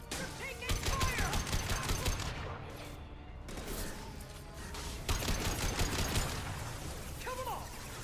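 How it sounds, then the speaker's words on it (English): Gunfire in Mass Effect LE2 on insanity difficulty: rapid bursts of automatic weapon fire in two loud stretches separated by a quieter gap, mixed with mechanical clatter and game voices. "Taking fire!"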